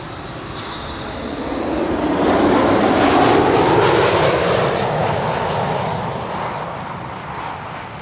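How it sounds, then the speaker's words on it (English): A KLM Boeing 737-700 arrives at Amsterdam Schiphol, its jet engines swelling into a loud, broad roar as it passes close by, then slowly fading as it moves away, with no talking. "This is KLM flight 1704 arriving from Brussels."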